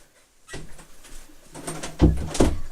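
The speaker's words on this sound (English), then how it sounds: "I'm just going to shut my door over." An indoor door is pushed shut in a craft room, with a soft shuffle and creak followed by two firm knocks as it closes into the frame, close and fairly loud.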